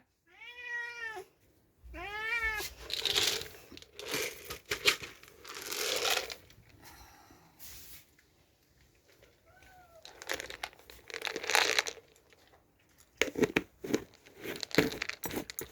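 A cat meows repeatedly in short, rising-and-falling calls spaced across the stretch, interspersed with crinkling, rustling handling noises and scattered clatter nearby.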